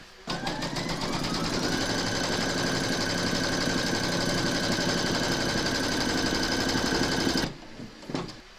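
An embroidery machine stitches the second round on an in-the-hoop notebook cover, its needle running in a fast, steady, close mechanical chatter for about seven seconds before stopping abruptly.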